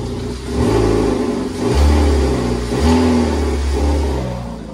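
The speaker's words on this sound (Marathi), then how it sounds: "गाडीचा आवाज कसला मस्त येतोय बघा" A car engine runs close by, revving up in several surges with a steady low rumble between them.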